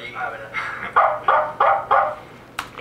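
A man imitates a dog barking with his voice, giving a string of five or six rhythmic bark-like yelps close up, followed by a brief sharp sound.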